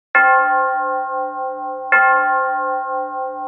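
A church bell in Syracuse's Northside strikes twice, about two seconds apart, each loud, clear clang ringing on in a long, steady harmonic hum with no other sound around it.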